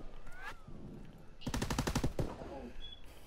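Automatic gunfire in a World War 2 first-person shooter search-and-destroy match: a sustained rapid burst of shots lasting under a second, loud and close, with quieter game ambience and faint voice before and after.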